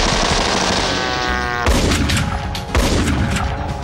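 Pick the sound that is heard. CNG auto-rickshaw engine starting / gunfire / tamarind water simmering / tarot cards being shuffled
gunfire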